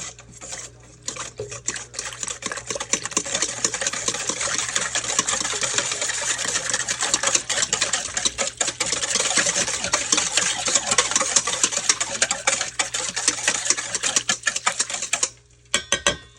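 An electric mixer whirs continuously through cinnamon roll dough made with sugar, a close, steady buzzing motor hum that holds for the whole stretch before cutting off near the end.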